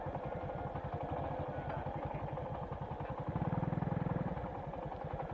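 Motorcycle engine running steadily on a ride between San Joaquin and Anini-y on Panay Island, a continuous close chug with a rougher, louder throb partway through, no talk over it.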